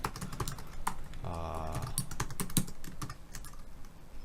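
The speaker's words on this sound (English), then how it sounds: "let's type something to confirm it" Someone types steadily on a computer keyboard while writing a Java text adventure game, producing rapid close clicks throughout, with a brief tonal sound partway through.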